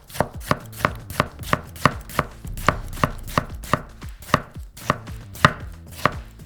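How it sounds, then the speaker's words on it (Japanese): A Japanese single-edged convex-blade knife slicing a tomato into thin pieces, a crisp, even run of about twenty close knife strokes against a cutting board, with no talk. "刻みもんみたいにトマト切ってみます。"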